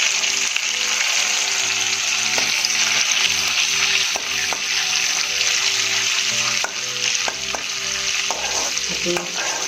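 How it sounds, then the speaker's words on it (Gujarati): Cumin seeds crackle and sizzle in hot melted butter as a tempering for street-style cheesy paneer gotala, a loud continuous frying hiss with frequent spoon scrapes and stirring clinks, no speech. "જીરું એડ કરીશું"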